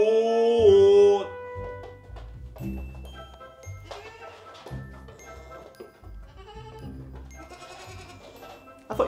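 Goats bleat several times, one long wavering cry opening loudly, then shorter bleats and some jingling mixed with rustling, up close in a quiet indoor setting.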